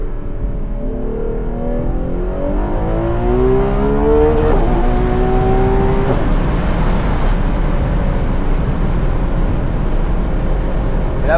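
Ferrari 12Cilindri Spider engine climbing toward its 9500 rpm redline, a steady loud drone with rising harmonic tones sweeping up in pitch mid-run, heard continuously without any talking.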